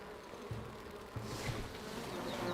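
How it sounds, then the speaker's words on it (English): Bees buzz in a video game, a steady insect drone with a few louder pulses over a low background hum, moderately close and with no talking. "I hear bees."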